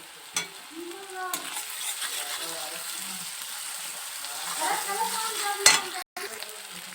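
Ginger garlic paste frying in a pan gives a soft sizzle broken by spoon scrapes and clinks, with a few faint sounds like distant voices.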